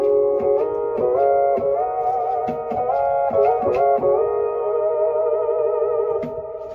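A Yamaha Motif synthesizer in poly mode plays sustained, shifting chords with the mod wheel bending the tone, over soft percussive clicks, continuous and fairly loud with no voices.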